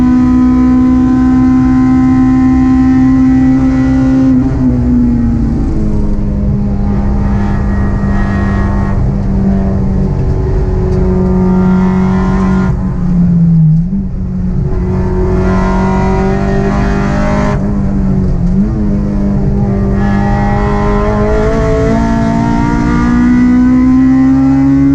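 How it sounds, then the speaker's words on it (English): A car with a DIY Brembo big brake kit takes high-speed corners at Canadian Tire Motorsport Park, its engine droning loud and close with rising and falling pitch through shifts and lifts, no talk. "here's a bit of footage of me going through the high-speed corners at"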